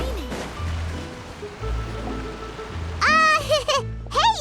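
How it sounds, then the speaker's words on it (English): Steady rain falling in the Genshin Impact video game, a continuous broadband patter under game music and character voices chattering over it. "Oh, it's raining."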